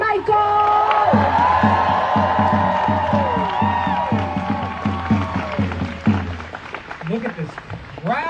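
A crowd at a Los Angeles protest rally cheers, whoops and applauds loudly for several seconds as a new speaker is welcomed, with rhythmic clapping and shouts that gradually thin out toward the end.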